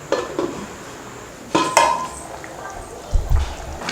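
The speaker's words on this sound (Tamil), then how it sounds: "இப்போ மூடி வச்சிடலாம்." A lid goes onto a cooking pot for a green field-bean curry, with several sharp metallic clanks and clinks of pans and utensils, close and fairly loud, separated by brief quiet.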